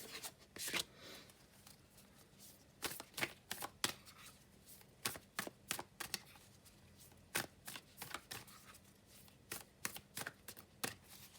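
Quiet, close riffling and snapping of tarot cards being shuffled, in irregular bursts of crisp flicks with brief pauses between.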